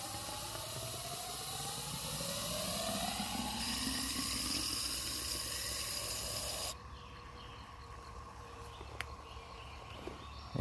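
Water runs and hisses through a hose or feed line while tomatoes are watered in a container garden, a soft steady flow that drops abruptly to a quieter trickle partway through, with a few faint clicks near the end.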